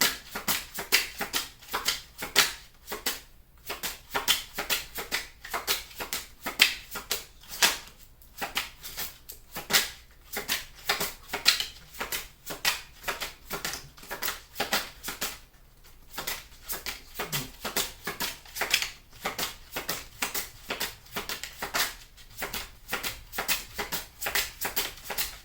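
A deck of tarot cards is shuffled repeatedly in close, crisp riffling bursts with short pauses between rounds, continuing steadily with no speech.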